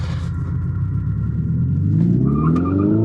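A 2025 Hyundai IONIQ 5 N pulls away on track with its synthetic engine sound, a loud, deep rumble whose pitch climbs steadily as the electric car accelerates, heard close and alone.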